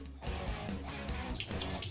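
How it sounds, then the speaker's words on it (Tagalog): Tap water runs steadily into a sink while hands are rinsed after soaping, giving a close, continuous rushing splash that shifts slightly as the hands move under the stream. "Pagkatapos ay banlawan ng tubig."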